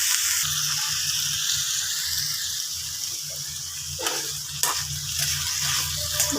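Ridge gourd sautés in a pan for chutney, a soft continuous sizzle with a few sharper clinks and stirring scrapes, no talking.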